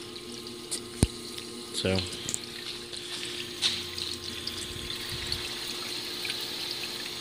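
Flood coolant streams steadily onto a Bridgeport Series 1 CNC milling machine, a continuous splashing trickle like a running tap, with a few knocks and clicks and a brief spoken word near the start.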